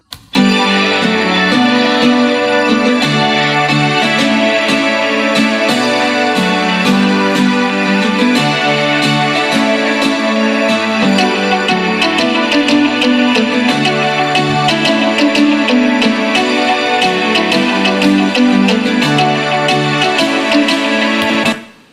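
Layered background synths play continuously and loud with the sidechain gate switched off, a dense sustained chordal wash with steady rhythmic pulses and no voices.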